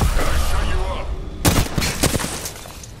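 Gunfire in the video game Apex Legends, a dense burst of rapid shots and booms up front that thins into scattered cracks, mixed with players talking over it.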